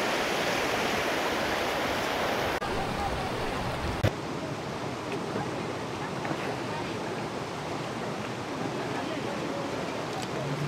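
River rapids rush without pause, a dense, loud, broadband roar of churning water heard up close. Faint voices may sit beneath it.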